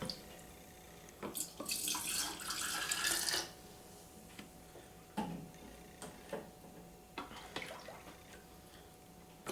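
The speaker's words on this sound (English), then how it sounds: "Fill it with the hot broth." Hot bone broth poured from a vessel into a canning jar, a bright liquid splashing burst for a couple of seconds, followed by scattered clinks and taps of glass and utensils in a quiet kitchen.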